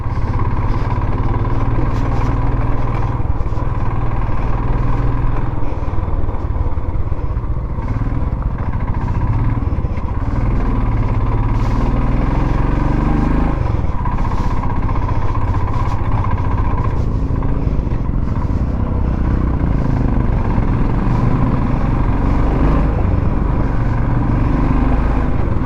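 Several motorcycles idle and rumble together on a village road near Gue monastery, forming a loud, dense, continuous engine drone for the whole stretch, with no voices.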